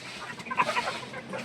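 Egyptian Fayoumi chickens on a farm cluck in a brief busy flurry of overlapping calls, close by, over a low background hum.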